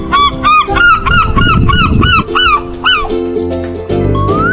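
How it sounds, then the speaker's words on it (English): A seagull gives a loud run of repeated harsh, laughing calls, each note rising then falling in a quick rhythmic series, close and clear with background noise beneath, ending in a drawn-out rising cry. "Seagull."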